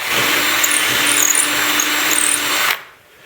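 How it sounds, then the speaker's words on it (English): A power drill bores through the wood of a homemade woodworking vise, a loud, close, steady whine with a grinding edge for nearly three seconds, then the motor cuts off and spins down. "And that's it, the hole's drilled completely through."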